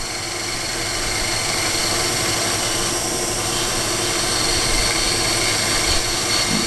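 A metal-cutting machine running at about 1200 RPM while its cutter lightly grazes a surface, giving a loud steady motor drone with constant broadband hiss and no talking.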